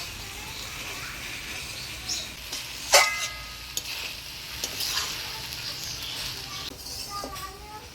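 Bhola fish chochchori cooking in a pan, a steady soft sizzle throughout with occasional clinks and small bird-like chirps in the background.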